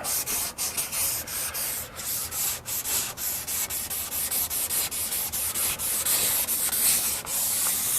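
Car body paint being sanded on a 1955 car during show prep, producing a continuous close, loud scratchy rasp with brief dips as the sanding strokes change, no talking.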